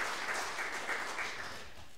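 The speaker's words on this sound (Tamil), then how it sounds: "ஆகவே அவர்களுக்கு எங்களுடைய கரங்களை தட்டி எங்கள் பாராட்டுக்களை தெரிவித்துக் கொள்ளலாம்." An audience claps in warm applause for Father Charles Collins at a church Christmas light festival, a steady wash of many hands that fades slightly toward the end, with no talking.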